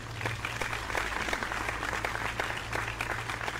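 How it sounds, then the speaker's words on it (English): Steady applause from a crowd in a video game graduation scene, continuous clapping at an even level throughout, with a low electronic hum underneath. "A round of applause for my fellow graduates."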